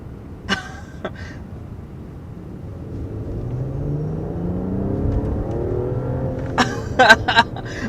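A 2022 Mercedes S-Class luxury sedan's base engine, not a V8, accelerating hard, its rising rumbling tone climbing through the gears, with a few sharp clicks near the start and end.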